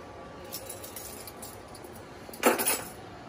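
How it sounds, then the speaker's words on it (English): Two metal spoons crushing blackberries in a container for homemade blackberry wine, a faint scrape followed by a brief clinking, rattling burst of metal on the vessel. "So just take 2 spoons, kind of crush them up."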